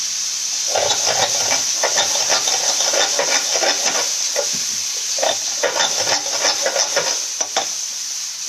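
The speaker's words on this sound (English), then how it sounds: "Once this is done, we will add chopped tomato." Chopped tomato hits a hot pan and is stirred, giving a loud, close, continuous sizzle and hiss with rapid rhythmic scraping of a spoon through the mixture; no talking.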